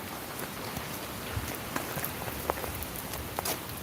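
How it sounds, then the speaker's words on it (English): Heavy rain pours steadily in Uptown Butte, Montana, a dense hiss with scattered sharper drops spattering nearby on a hard surface as water runs off a roof. "it's pouring rain out here"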